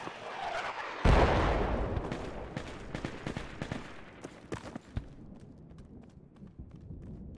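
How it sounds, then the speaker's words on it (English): Mortar fire in the military shooter game Project Reality lands as one heavy, booming impact followed by a decaying rumble and a scattering of smaller sharp cracks and thuds. "they're mortaring our east"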